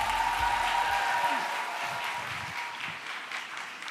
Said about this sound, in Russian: встречайте бурными овациями